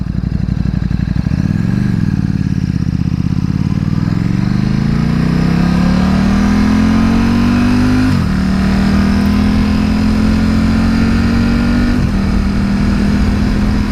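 A motorcycle engine runs steadily up close for the whole stretch, its low drone wavering and climbing in pitch with a couple of abrupt hiccups, sounding uneven and off, with no talk over it.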